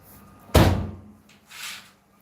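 A door shuts with a single solid thud, followed by a brief softer rustle.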